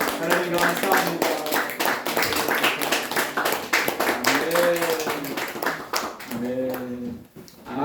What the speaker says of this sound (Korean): 하나님 영광의 박수 올려드립니다.